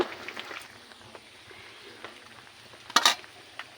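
A pan of curry with ground chili paste simmers and fries with a soft, quiet sizzle, broken by a few light scrapes and a sharp metallic clink near the end.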